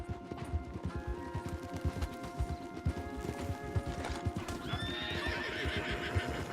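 Horse hooves clip-clop in a fast, rhythmic gallop in Red Dead Redemption 2, with a horse neighing near the end over a steady hum.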